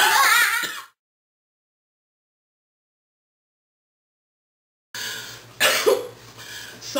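A short cough is heard up close, followed by a long silence, then more throat sounds and coughing.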